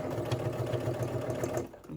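A sewing machine runs steadily as it top stitches a beauty bag, a close, continuous motor whir with a rapid needle rhythm that eases off near the end.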